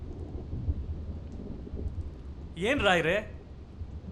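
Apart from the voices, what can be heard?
thunderstorm with thunder and rain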